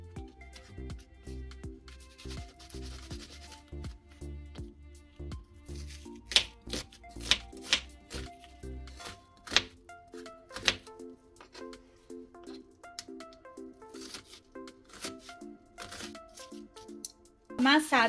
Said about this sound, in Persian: پیاز داریم که پیازمون رو بهتره برای این غذا به صورت نگینی خرد کنید.